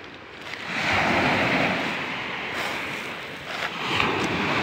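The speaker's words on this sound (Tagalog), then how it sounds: "Guys, yan maalon dagat to." Rough sea waves surge and crash continuously at a fishing village in the Philippines, with gusty wind rumbling across the microphone.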